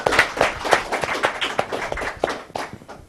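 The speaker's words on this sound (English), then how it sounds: "Let's give him a round of applause." An audience gives a comedian a round of applause at stand-up comedy auditions: dense, steady clapping that lasts about three seconds and then thins out, with no voices.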